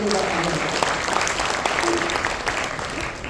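An audience at a Hindi-language gathering breaks into loud, sustained clapping, a thick wash of many hands close by with no pause.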